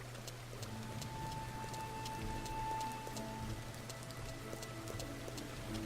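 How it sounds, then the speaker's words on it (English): Rain falling in the farming video game Farmer's Dynasty, a faint, steady patter on surfaces with a low constant hum and scattered tick-like drops underneath. "But it's been raining good all day long today."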